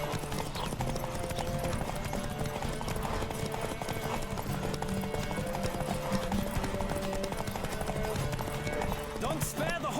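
A horse gallops steadily through a race in The Witcher 3, with fast, continuous hoofbeats under game music and a talking voice for the full stretch.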